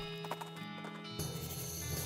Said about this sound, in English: She neighs with whispery gratitude.